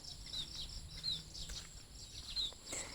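Quiet outdoor morning ambience with sparse, faint bird chirps scattered over a soft, steady background hum.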